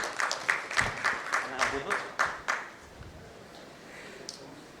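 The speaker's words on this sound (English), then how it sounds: "With a huge round of applause" A short burst of clapping from a modest crowd at a conference awards event as a speaker is welcomed on stage, irregular claps rising and fading over a couple of seconds, then dying away into room noise.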